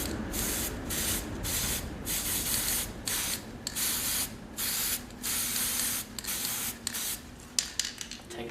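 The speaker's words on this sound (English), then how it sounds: "now just to hide that foam, take a bit of black spray paint," Black spray paint hisses from an aerosol can onto foam for a hobo puppet's body, in short repeated bursts with brief pauses between them, close and steady.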